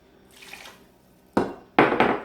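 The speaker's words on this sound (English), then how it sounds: "And I'm going to fill it up with water." Water poured from a jar into a pot of tomato sauce for spaghetti and meatballs, a soft splashing pour followed by two louder, fuller bursts of liquid hitting the sauce, close by with no talking.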